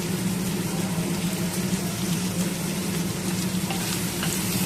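Diced onions fry in hot oil with garlic paste, turmeric and coriander powder as the base for a meat curry. A dense, even, close sizzle continues without pause.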